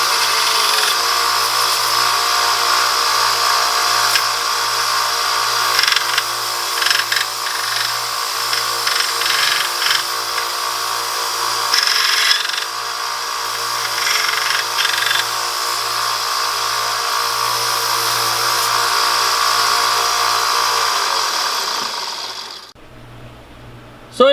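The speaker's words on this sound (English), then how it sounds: "then we're gonna take it to the sander and clean up that head so it's more like an actual spoon" A power sander grinds steadily for over twenty seconds, cleaning up the head of a hand-forged steel spoon in a blacksmithing shop, then winds down and stops near the end.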